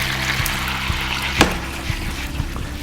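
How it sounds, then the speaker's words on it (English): Lemon juice pours into a hot pan of chicken piccata with capers, giving a steady close sizzle and bubbling with a sharper splash midway. "we're going to add the lemon juice right now"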